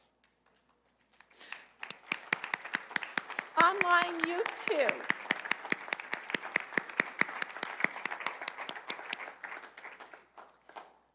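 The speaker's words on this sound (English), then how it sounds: "would you please stand so we can welcome you with our applause?" A church congregation applauds to welcome newcomers, steady scattered clapping building and continuing for several seconds before tapering off, with a brief spoken voice near the start.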